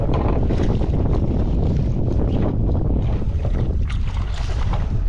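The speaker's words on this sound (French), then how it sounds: "je voulais pas sortir parce qu'il y avait trop de vent" Strong wind buffets the microphone with a constant loud roar and rumble, gusting throughout with no speech.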